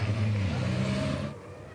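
A 5.3-ton racing truck with a nearly 12-litre single-turbo, 1,200-horsepower engine at a 2023 race in Poznań: a loud, steady, droning roar that eases off slightly toward the end.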